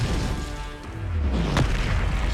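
A Confringo fire spell bursting in Hogwarts Legacy: a deep, rumbling boom that swells and then sharpens into a crackling impact, loud against a dense background of game effects.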